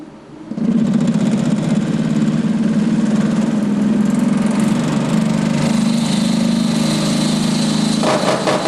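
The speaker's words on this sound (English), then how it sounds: "just so you can see the violence which occurs with a rotor that's this badly out of balance" A centrifuge with a badly out-of-balance rotor starts up and runs hard, giving a loud, steady droning hum with rattling vibration that continues for several seconds before a sudden change near the end as the motor is shut off.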